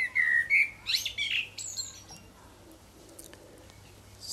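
A pet magpie chirps close by in a quick run of bright, sharp calls, then goes quieter against faint background noise.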